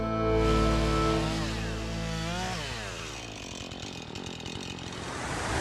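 Power saw trimming excess wood off the stringers of a bike drop ramp, a loud sustained whine whose pitch sags and shifts as it cuts, heard alone.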